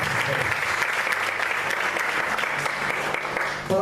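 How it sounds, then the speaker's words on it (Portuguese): A church congregation applauds together at an evening worship service, a dense, steady wash of clapping that fills the whole stretch before fading at the end, with a voice faintly underneath. "Você pode aplaudir o Senhor nesta noite?"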